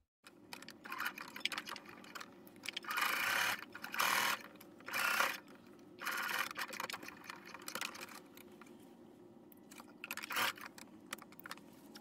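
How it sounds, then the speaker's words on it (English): Sewing machine stitching vest fabric in short bursts of rapid mechanical whirring, separated by brief pauses, close and moderately loud with no talking. "So flip our fabric and let's start sewing."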